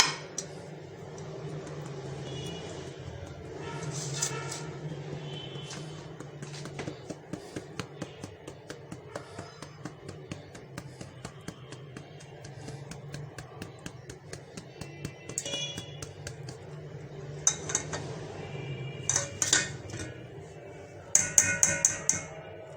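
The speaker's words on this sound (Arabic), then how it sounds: "وهنزل بقى هنا في الدقيق كده هنخله عشان ما يبقاش في اي تكتلات" Flour is sifted through a metal sieve into a bowl for cannelloni batter, making quiet, rapid rhythmic tapping and light rattling clicks that thicken into clusters of louder clinks near the end, with no talk.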